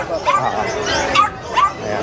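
Dogs at the Grotto pet market give three short, high yips and whimpering barks close by, spaced about half a second apart, with people talking in the background.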